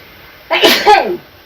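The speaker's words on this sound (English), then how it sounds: "That's the second time I've sneezed in the middle of this." One loud, close sneeze bursts out, with a sharp onset and a brief voiced tail, over quiet background hiss.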